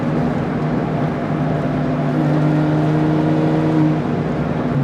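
An R53 MINI Cooper S hatchback engine hums steadily from inside the cabin while driving, a loud, even drone with a faint rise in pitch and no talking.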